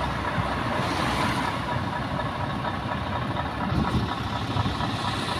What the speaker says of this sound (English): there's a well nice Scania coming down.